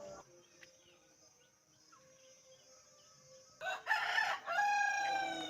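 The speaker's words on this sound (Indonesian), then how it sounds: "Di sana tuh di pojokan ada kandang ayam." Chickens in a coop in the corner of a house yard: quiet hum and faint clucks, then a rooster crows loudly and close near the end.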